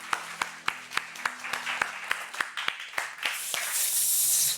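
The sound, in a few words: congregation applause in church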